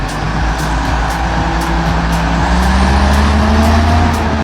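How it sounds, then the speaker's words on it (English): Oshkosh HEMTT Heavy Expanded Mobility Tactical Truck, a US military diesel, driving close by with a loud, steady engine drone and a slowly rising pitch, with no talking. "So this vehicle is called a HEMTT, or a Heavy Expanded Mobility Tactical Truck, and they're manufactured by Oshkosh for the US military"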